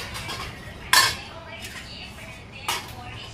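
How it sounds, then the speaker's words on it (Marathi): Boiled pasta is stirred in a metal pot, with two sharp clanks of a spoon against the rim and quieter scraping between them. "बॉईल पास्ताला जर आपण ढवळू कारण तो पूर्ण आपण घेऊ पास्ता जाम नाही झाला पाहिजे म्हणून त्याला ढवळतो."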